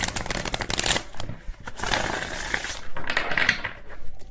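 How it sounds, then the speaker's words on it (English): Cards are shuffled near the listener in uneven bursts of papery riffling and slapping, with short gaps between passes. "Well, that was not a good shuffle."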